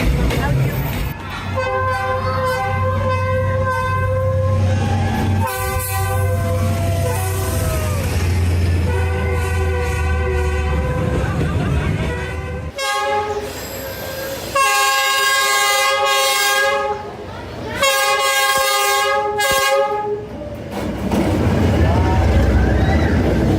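A train rolls down a narrow street in Hanoi, Vietnam, loud and close, its horn sounding in repeated long toots over steady rumbling and clatter.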